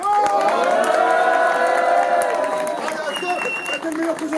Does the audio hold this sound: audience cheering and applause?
yes